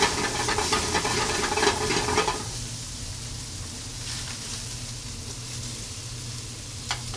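Beef cooking over open fire sizzles loudly and steadily with crackling spatter, then settles into a softer, continuous hiss after a couple of seconds, with a brief sharp pop near the end.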